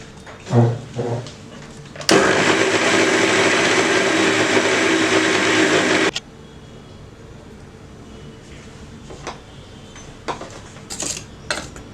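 A mixer grinder powders sugar into icing sugar in a home kitchen, running as a loud, steady whirring roar for about four seconds before cutting off, with light clinks of the jar before and after.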